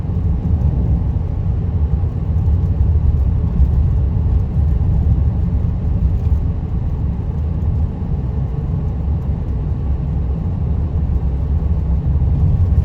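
Car driving along a rural road in South Carolina, with a steady, continuous low engine rumble and road noise heard from inside the vehicle, and no talking.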